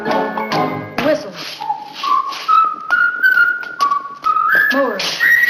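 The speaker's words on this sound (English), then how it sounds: "Whistle." Someone whistles a sliding, rising melody with bright sustained notes, close and clear, following an opening burst of sung or spoken voice.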